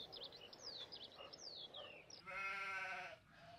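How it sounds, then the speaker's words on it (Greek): A small sheep bleats in a wavering, nasal call against a faint outdoor background, set in a Biblical Greek storytelling lesson, with birds chirping softly earlier. "το πρόβατον το μικρόν."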